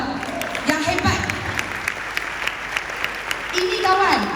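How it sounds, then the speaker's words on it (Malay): Scattered, light clapping from a small seminar audience comes in short bursts, mixed with a talking voice, fairly quiet overall. "Satu tepukan untuk anda yang hebat."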